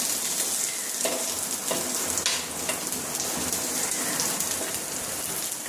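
Grated coconut frying in oil, grandmother-style, for a home-cooked amti curry: a dense, steady crackling sizzle that continues without pause throughout, with occasional slightly sharper pops.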